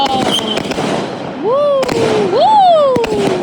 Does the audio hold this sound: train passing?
no